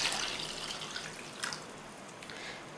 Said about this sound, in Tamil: இதில் வந்து 1 லிட்டர் அளவுக்கு தண்ணி சேர்த்துக்கலாம்.